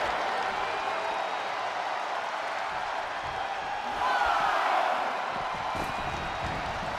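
Video game arena crowd at a WWE 2K23 wrestling match featuring Will Ospreay and Claudio Castagnoli, a steady broad roar of cheering and applause that swells briefly midway, with commentary voices over it.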